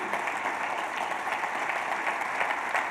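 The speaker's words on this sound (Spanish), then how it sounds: "Denle un aplauso al apóstol Pablo." A church congregation claps together in steady, dense applause during a sermon, a continuous fairly loud patter of many hands filling the room, with no talk over it.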